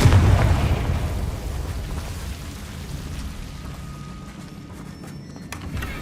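A Confringo blasting spell goes off in Hogwarts Legacy, a loud booming burst at the start that decays into a rumbling, crackling tail, with faint fizzing effects and another small swell near the end.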